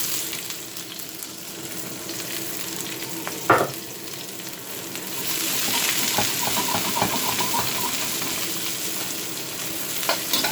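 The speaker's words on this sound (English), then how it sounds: "And get these stir fried slightly." Carrots, onion and spring onion stir frying in a hot, smoking pan with marinade, giving a steady loud sizzle that intensifies midway, with a brief clatter of utensils near the start.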